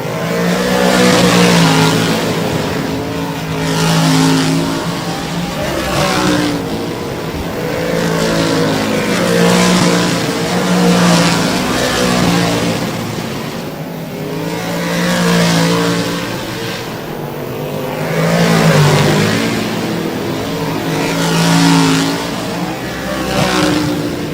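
Race cars start and race around a speedway, their engines roaring loudly and continuously and swelling and fading as they pass.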